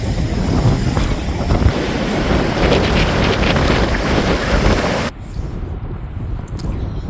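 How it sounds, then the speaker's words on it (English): Ocean waves crash on Portugal's coast along a fishermen's hiking trail, a continuous loud roar of surf mixed with wind buffeting the microphone, with no talking. "Sun's out, waves are crashing"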